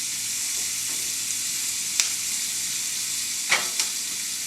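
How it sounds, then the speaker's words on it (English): Onions heat up in a pan to caramelize, giving a steady, close sizzle and frying hiss with a few brief sharper pops and crackles. "I'm going to let these onions kind of start to heat up a little bit"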